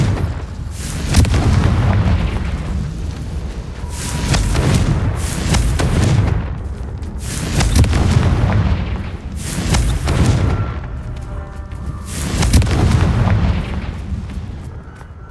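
Confringo explosive spells blast repeatedly in the video game Hogwarts Legacy, five or six heavy, booming detonations spaced a couple of seconds apart, each swelling and rumbling before fading, loud and close with no talk.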